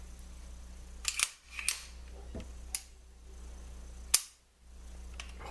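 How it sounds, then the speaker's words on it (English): Sharp mechanical clicks from an M9 pistol being dry-fired and its trigger reset during a function check, a few crisp snaps spaced over several seconds over a steady low hum, with no talking. "Hold the trigger reset. Hear that click?"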